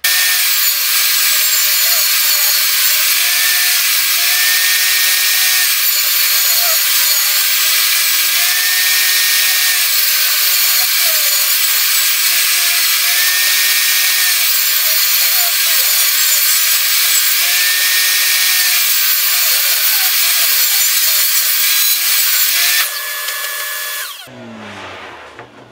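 A table saw rips a straight wooden board planed to just over half an inch thick, its loud steady whine and cutting rasp running continuously for about twenty-four seconds before the blade winds down.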